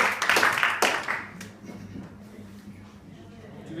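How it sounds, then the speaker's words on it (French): A small group clapping briefly for a participant at a training session, a short burst of hand claps that quickly fades into quiet room noise and low murmuring. "Ok, on l'applaudit."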